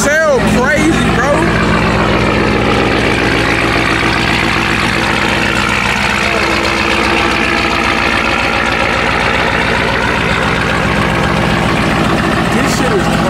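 A Ram TRX pickup truck engine idles with a steady low rumble throughout, loud and close, with a voice talking over it.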